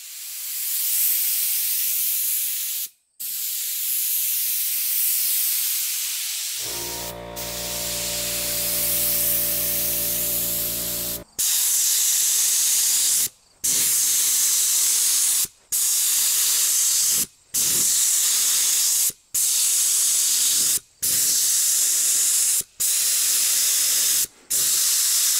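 Compressed air hissing through a 3M Accuspray paint sprayer, long loud steady bursts with a brief tonal section partway through, then a string of short sprays separated by quick pauses, close to the gun with no talk.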